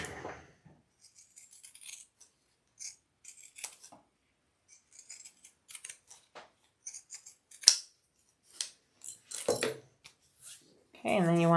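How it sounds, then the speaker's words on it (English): Pinking shears trim through fabric in a string of quiet, crisp snips at irregular intervals, close by, with a brief spoken phrase near the end. "I'm going to use my pinking shears and trim that a little bit."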